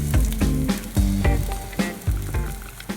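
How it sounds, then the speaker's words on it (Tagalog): Onion, garlic and ginger sizzling in hot oil in a new pan, loud close frying crackle broken by repeated sharp knocks and scrapes of a utensil stirring against the pan. "haluin lang po natin na yan at lutuin po natin ng konti ang sibuyas, bawang at ang luya"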